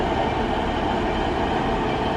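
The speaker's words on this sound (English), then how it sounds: "Just getting on the train." A train carriage rumbles with a steady, dense roar of wheels on rails, unbroken and fairly loud throughout with no voices.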